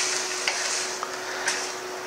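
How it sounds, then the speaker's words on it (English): Meat sizzles with a steady hiss in a very hot wok without oil, punctuated by a few soft scrapes of stirring, up close. "You can hear that nice sizzle going on."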